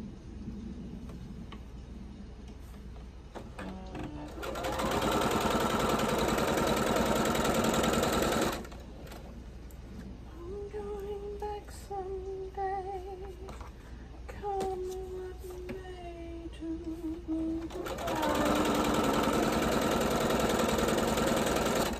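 A sewing machine stitches pieces of quilt fabric for a Quilted Snowman block in two steady, whirring runs. Someone talks quietly in the pause between them.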